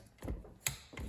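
A torque wrench fitted with an extension clicks and ratchets while tightening a VW swing axle bolt: three short, close mechanical clacks in quick succession, fairly quiet, with no voices.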